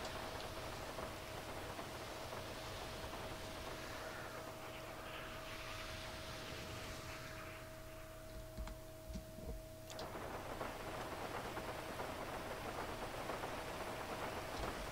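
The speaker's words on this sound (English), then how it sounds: "Let's try" Steady hiss of rain falling on surfaces in the game FiveM, continuous and even throughout, with a faint constant tone underneath and a brief shift near the middle.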